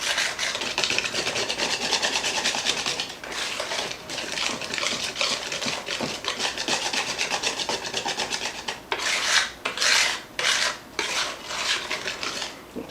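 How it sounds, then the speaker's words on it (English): A wire whisk beats flour batter by hand for carrot cake in a bowl, a fast, continuous scraping and rattling close up, with brief pauses and quicker bursts toward the end, no voices. "I'm going to switch to a whisk real quick."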